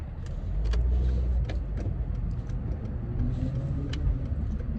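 A car driving home from work along a road, its low engine and road rumble steady and close throughout, with no voices.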